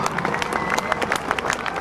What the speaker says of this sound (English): Let him hear your applause